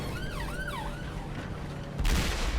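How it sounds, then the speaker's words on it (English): Wailing emergency vehicle siren sweeping up and down near the start, then fading, over steady engine rumble and battle noise from a World of Tanks match; a loud burst of noise follows near the end. "God, the sirens today."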